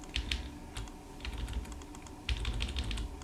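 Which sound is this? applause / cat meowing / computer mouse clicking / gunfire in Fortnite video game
computer mouse clicking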